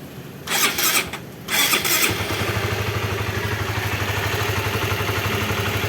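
A Honda CB150R motorcycle fitted with a new balancer cranks over twice, catches, and settles into a steady, even idle close by.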